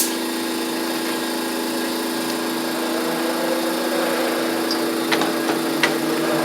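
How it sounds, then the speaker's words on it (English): An air compressor runs in a workshop during tire work on a John Deere LA100 lawn tractor, a steady loud mechanical drone with a constant hum and a few faint clicks near the end, with no talking. "Turn on my air compressor."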